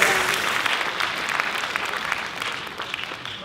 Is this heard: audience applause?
yes